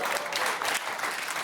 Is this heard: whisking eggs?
no